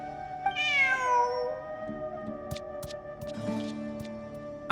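A cat in Genshin Impact lets out a loud, rising-and-falling meow close by, followed by quieter game ambience with light ticks and clicks.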